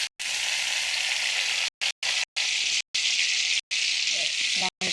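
Potatoes with raw tomatoes frying in a pan give a steady, close hiss of sizzling, broken by several abrupt full dropouts, with a few faint scraping stirs near the end.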